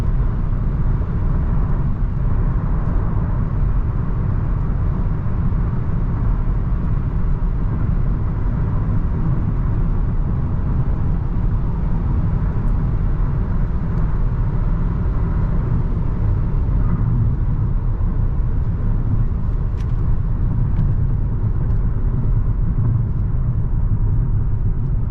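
A 2018 Mazda3 Grand Touring exits a freeway, heard from inside as a continuous low road and engine rumble with steady tire noise throughout.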